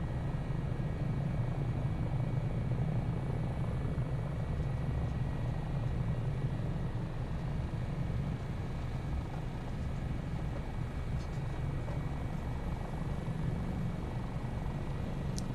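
A steady, droning rotor-and-engine hum from inside an AS365 N2 Dauphin helicopter of 658 Squadron AAC flying over South Wales, constant and unbroken throughout.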